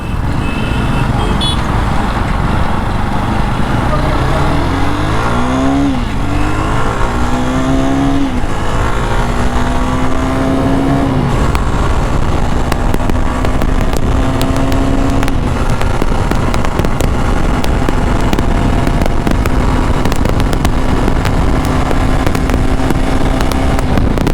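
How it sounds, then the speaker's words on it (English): A 2021 Jawa Perak bobber motorcycle accelerates hard on a road, its engine note rising through several gear changes over loud, constant wind rush. "I think it's time to do a quick acceleration test on this road"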